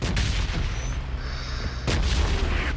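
Gunfire in the mobile shooter PUBG Mobile: heavy booming shots crack at the start and again near the end, with low rumbling battle noise in between.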